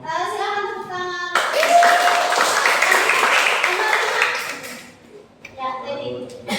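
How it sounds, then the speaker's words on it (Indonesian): Classroom applause during a history lesson, a burst of clapping that starts suddenly and runs for several seconds, with a voice heard before it begins and again after it fades. "Silakan tepuk tangan."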